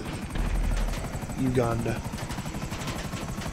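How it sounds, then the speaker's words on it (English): A police helicopter chasing the player in GTA V, with its rotor thumping steadily throughout and loud under a brief spoken word. "is there gonna be helicopters now coming after us? There already is."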